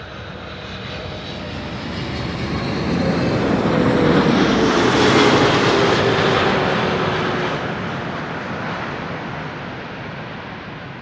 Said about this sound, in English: KLM flight 682 arriving from Vancouver, Canada. 777-300 8 hours 28 minutes underway.